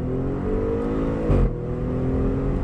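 Audi engine revving hard in first gear, a steady loud car engine drone with harmonic tone that swells briefly mid-clip, recorded from inside the car with no talking.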